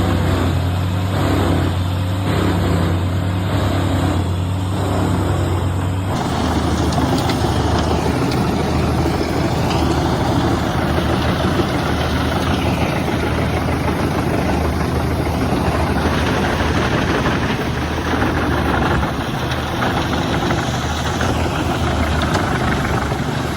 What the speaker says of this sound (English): razor-sharp blades tear through the tough eucalyptus wood